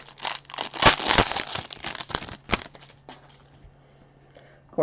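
Foil wrapper of a baseball card pack crinkling and tearing open during a live pack-breaking stream, a close, loud rustle with sharp rips that trails off into quieter handling over a steady low hum.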